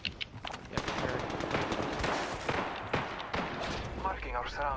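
Rapid automatic gunfire in the video game Apex Legends, a dense run of sharp shots through most of the stretch, with voices talking over the battle.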